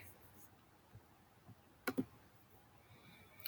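Computer mouse clicks while working in a Google Docs drawing, a quick double click near the middle and a faint pair at the end over quiet room noise.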